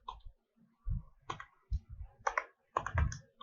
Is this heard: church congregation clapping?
no